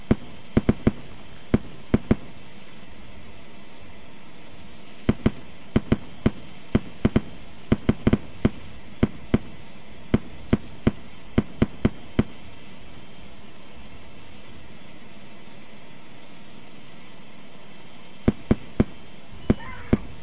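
Gunfire in the military game Arma 3 crackles as sharp, separate reports in scattered bursts over a quiet background, some shots clustered rapidly and others spaced apart.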